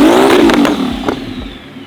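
A Lamborghini Murcielago LP640 engine revs hard up close, a loud snarling rise and fall followed by quick throttle blips as the roar settles back toward idle.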